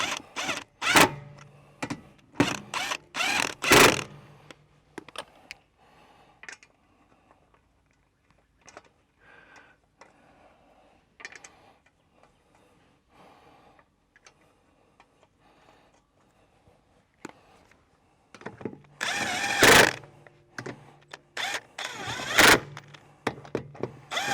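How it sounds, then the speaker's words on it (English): An impact wrench on its soft setting runs in wheel nuts on a 4x4 during a tyre rotation, heard as short rattling bursts at the start and again near the end, with clunks and quieter handling noises in between. "And with our impact on the soft setting, we'll just run them in."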